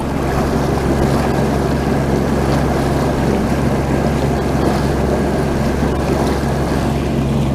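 A sailboat's inboard engine runs hard at full throttle on San Francisco Bay, a steady loud low drone with constant hum, mixed with wind buffeting and water wash, no talk over it.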